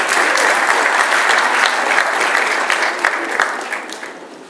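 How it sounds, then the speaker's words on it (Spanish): Steady, dense audience applause at a municipal public event, loud and continuous throughout, tapering slightly toward the end. "Un fuerte aplauso."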